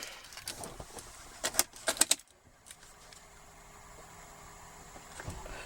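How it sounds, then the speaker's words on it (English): Keys jangle and click near the ignition of a 2011 Mercedes R350 BlueTec 4Matic diesel, a few sharp metallic bursts, then the engine catches and settles into a low, quiet steady idle. "let's go ahead and get the car started"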